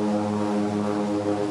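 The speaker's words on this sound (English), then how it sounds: "I don't know if you can hear me over airplane or not." Propeller airplane droning overhead near a small-town airport, a steady low harmonic hum that holds evenly throughout with no talk over it.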